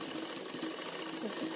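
A sewing machine stitches a boat neck blouse in a steady, close, continuous mechanical rattle that carries on through the whole brief moment.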